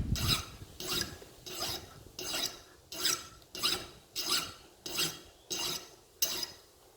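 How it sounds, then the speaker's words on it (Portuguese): A wide metal file rasping across a workpiece while shaping a homemade marking gauge, about nine even back-and-forth strokes in a steady rhythm, close and clear with no speech. "É uma lima mais larga, para ter mais suporte."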